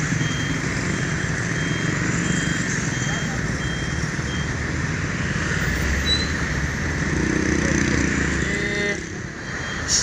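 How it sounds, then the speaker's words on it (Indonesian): Expedition trucks idle and rumble on a congested Indonesian road, a loud continuous engine drone with a faint repeating beep and a heavier surge of engine noise toward the end. "Jalurnya dipadati sama truk-truk ekspedisi ya."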